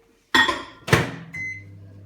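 A microwave oven used to melt butter for Polish doughnuts: two quick clunks of the door and buttons, then a low steady hum as it starts running, fairly close.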